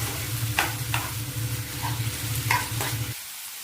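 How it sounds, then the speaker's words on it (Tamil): Spinach and egg stir-fry stirred in a pan, a steady sizzle with a few scraping spatula strokes, close and fairly loud, no talk, ending abruptly. "கீரையோட ஒன்றா கலக்கலாம்."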